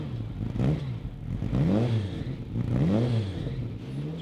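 A Ferrari 308 engine revs up and falls back in repeated swells, three strong throttle blips over a steady idle, loud and close with no talking.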